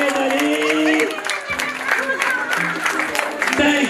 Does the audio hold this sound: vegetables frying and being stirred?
no